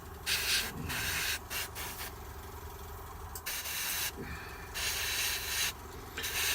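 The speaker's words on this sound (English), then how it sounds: "use the pressure of the airbrush to get right into those harder to reach crannies" Airbrush hissing paint onto a Blood Angel Librarian miniature in short repeated bursts, a breathy spray switching on and off every second or so, close up over a faint steady compressor hum.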